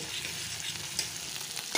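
Fish roe fries in hot oil with a continuous close crackling sizzle, with small sharper pops near the end.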